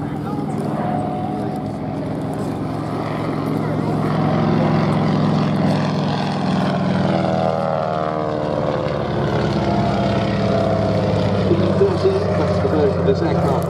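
Stearman PT-17 biplane with a Lycoming engine flying at a Duxford airshow, a steady droning propeller engine sound sustained throughout, moderately loud, with a voice talking over it.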